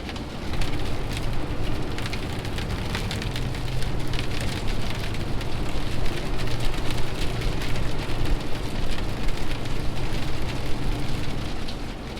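Hail and rain pelt a truck on a New Mexico road during a tornado-spawning storm, a dense, steady roar of drumming impacts that stays loud and close throughout with no voices.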